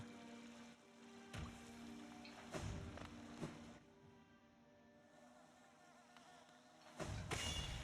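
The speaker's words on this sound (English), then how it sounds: "Bees." Bees buzz in a hive in the Hollow Knight video game, a faint steady drone with several louder swells as insects pass close, alone without talk.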